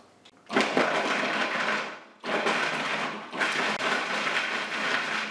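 A blender pulses parmesan, rosemary and smoked black pepper in two loud whirring bursts, the first about 1.7 seconds long and the second about 3 seconds, separated by a short pause, close and with no talking.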